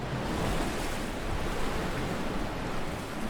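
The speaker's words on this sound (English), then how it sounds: "Beneath the waves. Don't get caught by the wave." Ocean waves break and wash against sea cliffs, a loud, continuous roar of surf mixed with wind buffeting the microphone, steady throughout with no voices.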